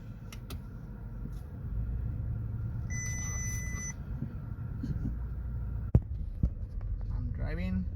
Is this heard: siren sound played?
no